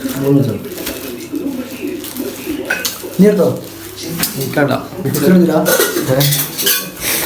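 Metal utensils clank and scrape against a new cooking pan in uneven bursts, with a voice talking over the kitchen noise.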